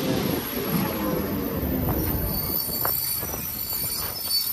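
A train pulling into Skirotava station, a broad rumbling roar with faint wheel squeal rising and fading over a few seconds, heard from the platform.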